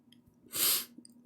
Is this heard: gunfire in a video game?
no